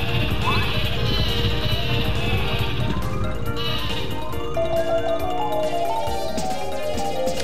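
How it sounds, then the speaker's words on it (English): In the Paper Mario video game, the Sleepy Sheep item plays a loud, cartoonish sheep bleating over busy game music and effects, with several wavering bleats in a row. "sleepy sheep, there it is"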